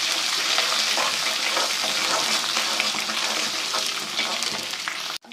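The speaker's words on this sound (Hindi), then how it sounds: "और इसमें मैं 1 खाने का चम्मच जो है लहसुन अदरक का पेस्ट शामिल कर देती हूँ। थोड़ा सा चला लेंगे" Ginger garlic paste stirred into browned onions frying in a pan, a steady close sizzle with scraping stir sounds running throughout before a brief clatter at the end.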